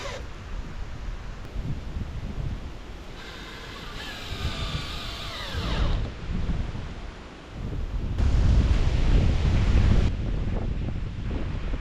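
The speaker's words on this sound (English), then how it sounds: "Super windy today." Strong wind buffets the microphone in heavy, surging gusts, with rumbling low roar that swells louder toward the end, no voices present.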